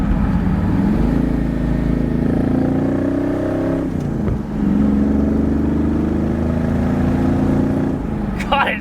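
Ford XC Falcon Cobra V8 rumbling close and loud at a steady idle-to-cruise throb, with a brief dip midway and a voice speaking over the engine.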